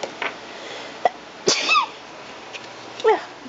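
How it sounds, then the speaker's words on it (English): One person sneezes close to the microphone in a quiet room, followed by a few faint small clicks and bright chirpy noises. "I'm about to sneeze."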